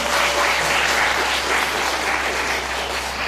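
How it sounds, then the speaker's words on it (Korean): A crowd at a literary concert featuring a poet breaks into continuous, even applause, a thick wash of clapping held at steady volume, with a faint low hum beneath. "맞다면 박수 부탁드리겠습니다."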